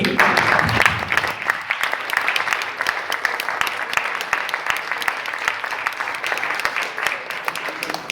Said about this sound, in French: moi je vous propose qu'on s'applaudisse, parce qu'on a vachement bien bossé.